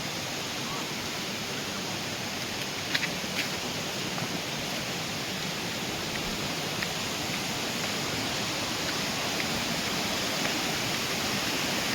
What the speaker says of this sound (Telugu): స్వామి ఇప్పుడు మనం వాటర్ ఫాల్స్ దగ్గరికి వచ్చేసాము